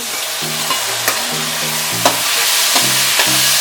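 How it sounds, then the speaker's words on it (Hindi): Chicken curry ingredients sauté in a pan with a loud, continuous sizzle, punctuated by a few sharp utensil taps and scrapes, while a low tonal hum plays underneath. "इसको थोड़ा सौटे कर ले।"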